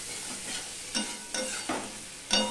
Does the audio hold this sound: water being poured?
no